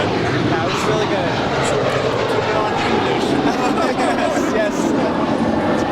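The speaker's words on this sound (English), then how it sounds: "we got that Dreamliner now making that left at past there, and she will head on down for a departure here on the south side" Jet engine rumble of a Boeing 787 Dreamliner taxiing at LAX, a steady broad roar filling the whole stretch at moderate distance, with a person talking over it throughout.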